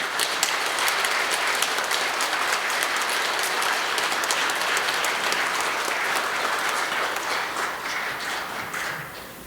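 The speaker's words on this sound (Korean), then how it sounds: "신부님을 앞으로 모시고 환송식을 시작하도록 하겠습니다. 큰 박수로 맞아주시기 바랍니다" A church congregation at Sunday Mass in Wangsimni gives loud, continuous applause to welcome the priest forward for his farewell ceremony, a dense wall of clapping that stays strong for several seconds before easing slightly at the end.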